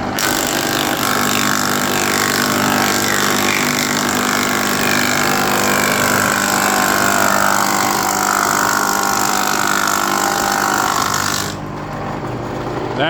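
An old J.A. Fay & Egan planer runs with a steady, loud mechanical drone that holds for most of the stretch, then cuts off sharply near the end, leaving quieter background.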